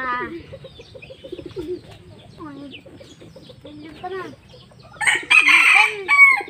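Several hens clucking and calling close by, with a rooster crowing loudly near the end and some human voices in the background.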